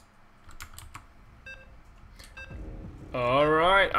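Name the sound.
beeps in StarCraft 2 game lobby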